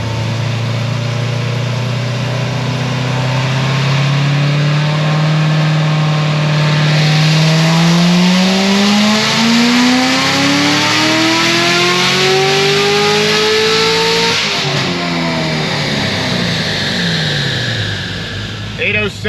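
A Chevrolet C7 Corvette Z06 engine revs hard through a cold dyno pull, the loud tone climbing steadily in pitch for about fourteen seconds before cutting off, then winding down as the rollers coast.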